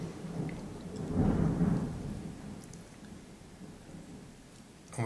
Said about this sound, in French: On va avoir de l'orage.